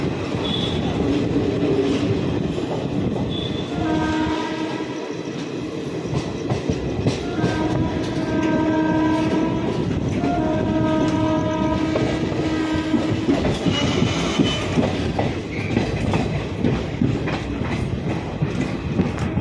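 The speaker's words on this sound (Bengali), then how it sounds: "ট্রেন কিন্তু তার নির্ধারিত সময় থেকে 10 মিনিট লেটে কিষানগঞ্জ স্টেশনে পৌঁছালো" The Uttar Banga Express rolling into Kishanganj station, loud and close, with steady wheel clatter and rumble, a long horn note sounding partway through and squealing metal tones over the running train.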